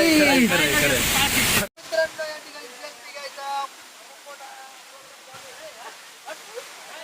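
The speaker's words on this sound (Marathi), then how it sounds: "खूप पाऊस आहे, मागे धबधबा आहे." A loud rush of heavy water from a waterfall opens the clip, then steady heavy rainfall continues beneath a person talking.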